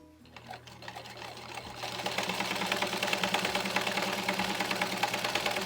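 A sewing machine stitches a quarter-inch hem with plain straight stitching, its needle chattering in a fast, even mechanical rhythm that starts soft and settles into a steady close whir, with no voices.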